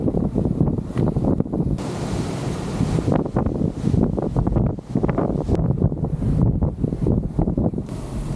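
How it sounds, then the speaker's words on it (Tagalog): Strong wind roars steadily across the microphone, a dense continuous rushing buffet with no voices. "Maulap, malakas ang hangin, hindi mainit"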